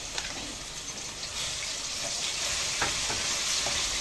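Garlic pieces frying in a couple of spoonfuls of oil in a pan, a steady close sizzle with faint scattered clicks and crackles throughout, no talking.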